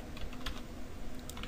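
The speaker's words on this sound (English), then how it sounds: "let's go ahead and click on the text tool and type in something here" Rapid, uneven clicking of keys on a computer keyboard as a word is typed, steady and fairly close, with a low hum underneath and no voices.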